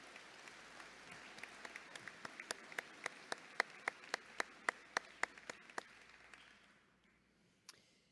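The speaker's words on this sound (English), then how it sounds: "Let's give them another round of applause." Applause for a concert choir at a college commencement ceremony: distinct, sharp claps in a quick steady rhythm, rising and then thinning out to near silence with one last late clap, fairly quiet and distant.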